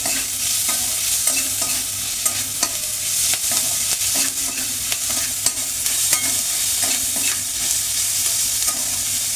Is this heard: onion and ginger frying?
yes